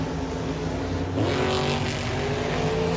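Monster trucks race at a Monster Jam event in Tampa, a loud, continuous engine roar that rises in pitch as they accelerate, with crowd noise behind.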